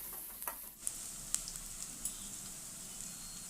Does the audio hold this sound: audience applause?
no